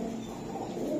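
Silver-breed pigeons coo softly and continuously, with a low, steady murmur.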